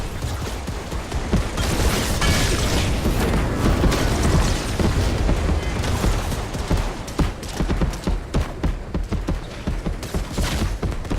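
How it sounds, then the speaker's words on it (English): Rapid gunfire in the video game Fortnite during a chaotic battle, with dense, continuous bursts of shots and booms filling the whole stretch at steady loudness, no talk over it. "Wow, that's shooting."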